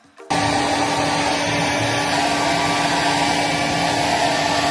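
Hair dryer blowing steadily in a Boracay hotel room, switching on abruptly after a brief quiet start, then a loud, constant whooshing whir with a faint motor hum and no talk over it.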